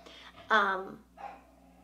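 A pet dog gives one short sharp bark followed by a brief whimper indoors, close and moderately loud in an otherwise quiet room.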